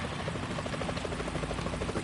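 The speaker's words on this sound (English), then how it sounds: "Is that a chopper I just heard?" Helicopter in the video game Metal Gear Solid 2 drawing closer, a steady rotor thrum with rhythmic blade chop that stays loud and continuous throughout, with no voices over it.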